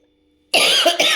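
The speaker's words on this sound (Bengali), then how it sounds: "কাশি যে কবে সারবে কে জানে" A person with a lingering cough gives two harsh, close coughs in quick succession after a brief silence, with the second burst short and abrupt.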